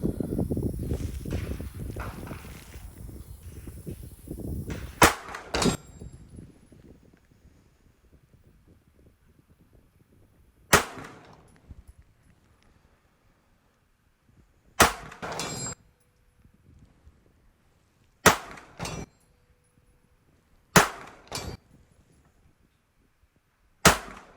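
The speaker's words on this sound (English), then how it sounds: "that's 5 hits out of 7 shots at 100 yards using Blazer Brass 115" A pistol firing Blazer Brass 115 ammunition at a steel torso target 100 yards away, shooter braced against a metal pole, gives seven sharp cracks spaced a few seconds apart, preceded by gusty wind noise.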